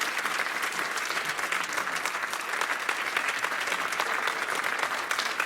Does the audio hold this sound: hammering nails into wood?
no